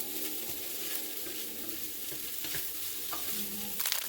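Onions and spiced meat filling, seasoned with adobo and a Chinese spice, being stirred in a hot pan for crab rangoons, with a steady low sizzle under repeated scraping strokes and no talking.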